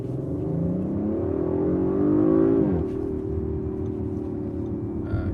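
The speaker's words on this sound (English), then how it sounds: "full acceleration coming out of a corner" A 2021 Audi RS5 Sportback engine revs up hard out of a corner, its pitch climbing steadily under full throttle, then drops as it shifts and settles into a steady drone.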